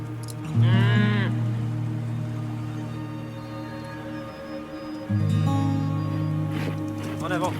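Cattle on a farm moo loudly in two long, close calls, one near the start and another about halfway through, over steady outdoor background.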